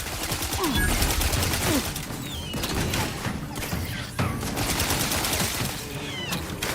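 Dense, continuous gunfire from a gun in the video game The Outer Worlds 2, with rapid overlapping shots and crashing impacts that stay loud and steady throughout.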